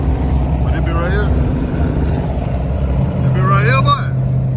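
A loud car engine roars past on the highway, a heavy, steady rumble heard up close throughout, while someone talks over it.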